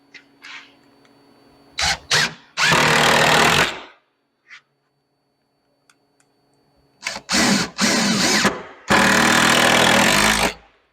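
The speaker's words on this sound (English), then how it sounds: "I'm just going to shoot one of these in the end through the OSB." Power driver sinking a Torx-drive decking screw through OSB shelving: two loud bursts of high-speed whirring, each opened by short stuttering pulses, separated by quiet gaps in a garage setting.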